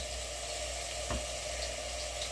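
Onion and tomatoes sizzle steadily in a hot pan, a constant low crackling hiss with one brief soft stir or tap near the middle.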